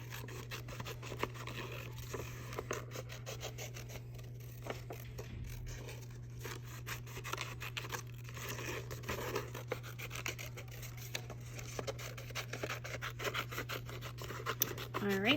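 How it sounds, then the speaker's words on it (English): Scissors snipping and rustling through paper while cutting out a hand shape, a steady run of quiet, close crisp cuts and scraping, with faint talk in places. "You cut it out in like a big circle, take your scraps, throw them away."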